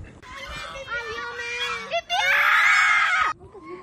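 Geese honk and shriek harshly nearby in loud, overlapping squawking calls, with a brief pause between bursts.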